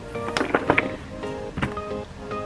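A makeup storage drawer slides open and shut with wooden knocks and clattering contents, a few close, sharp rattling bumps in a quiet room.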